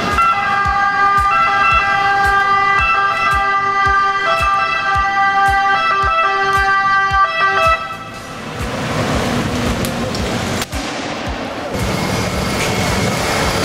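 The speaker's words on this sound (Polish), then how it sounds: "Dopiero jedzie karetka, czy tam straż pożarna" A wailing ambulance or fire engine siren in Italy, loud and close, sweeping up and down, then fading into a rushing mix of traffic and road noise.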